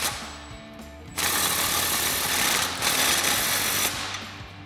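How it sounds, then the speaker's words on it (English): An impact wrench with a 15 mm socket tightens an exhaust clamp on a Jeep Wrangler JK axle-back exhaust, firing in two loud rattling bursts of about a second each, with a quieter mechanical background before and between them. "to tighten these clamps, we're using our 15 millimeter socket on our impact again."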